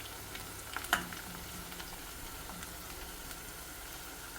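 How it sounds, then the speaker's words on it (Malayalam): Cumin, ajwain and small onions frying in hot oil, a low steady sizzle with a brief clatter near the start and faint stirring scrapes. "അത് നല്ല ചൂടുള്ള ഓയിലല്ലേ, അതിൽ കിടന്നിട്ടങ്ങ് വറന്നോളൂ."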